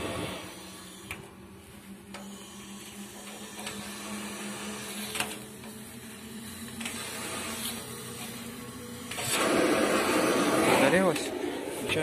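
Greenhouse diesel heater burner, a steady hiss and hum that swells louder near the end as the burner catches and roars, with a person talking over it.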